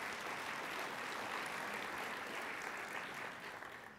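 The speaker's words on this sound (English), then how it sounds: "Let's give Noah and Walter another round of applause for" Dense, sustained applause from a conference audience of community college trustees fills the hall for the speakers, a steady wash of clapping that tapers slightly at the close.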